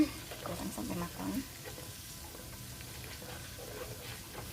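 Garlic fries in oil for chilli oil, a faint, steady sizzle with some stirring and clatter in the first second and a half, then a quieter bubbling.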